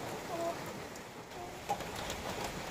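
Steady rain falls outdoors over a garden plot of sprouting crops, a dense, even patter that fills the whole stretch, with a faint bird call or two in the background.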